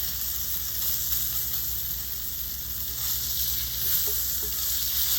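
A5 Japanese Wagyu beef steak sears in a pan with a steady, close, even sizzle that hisses on without a break for the whole stretch, with no voices.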